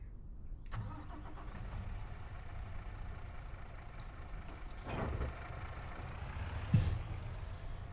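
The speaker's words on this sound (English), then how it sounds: "let's get the truck going" Truck engine in Farming Simulator 25 cranking and catching around the fifth second, then settling into a steady low idle with a brief louder rev near the end, heard over a constant rumbling background.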